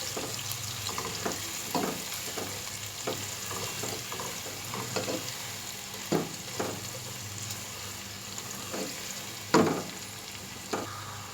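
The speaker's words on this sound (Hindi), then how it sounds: "प्याज को हम पिंकिश होने तक फ्राई करेंगे।" Onions frying in a pan until pinkish, a steady close sizzle with scattered stirring knocks and scrapes throughout, no voices.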